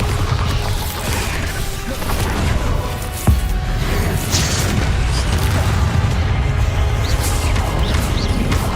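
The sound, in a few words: Bombarda spell explosion, from a Harry Potter video game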